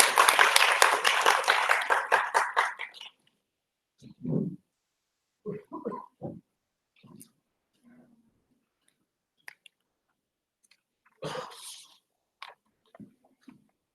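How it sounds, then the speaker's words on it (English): Brief applause from an audience welcoming the chairman at a foundation day celebration: a dense burst of clapping that fades out after about three seconds, followed by quiet with scattered soft thumps and rustles. "Please welcome him with a big round of applause."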